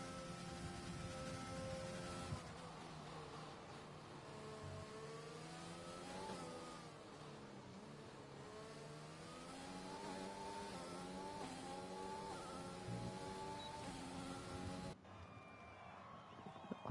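An F1 car from the F1 2020 racing game, at Great Britain, on a flying lap: a high, rising and falling engine whine that climbs through the gears with short dips at the shifts and then cuts off near the end.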